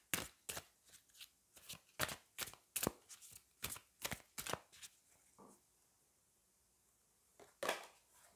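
Oracle cards are shuffled in quick, crisp close bursts, a steady run of riffling clicks that pauses briefly and resumes with a final flutter.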